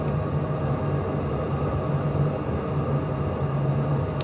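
Cockpit of a CJP jet at takeoff thrust: a steady, heavy engine rumble with a constant low drone, sustained and even throughout, heard from inside the aircraft.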